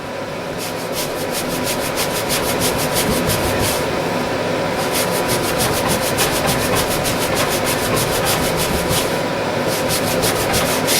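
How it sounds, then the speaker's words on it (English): A shirt is scrubbed with a hand cleaner to lift a grease or blood stain, making a loud, continuous rhythmic rubbing, a fast brisk back-and-forth scrape that runs the whole time with brief pauses and no speech. "A little scrubbing involved."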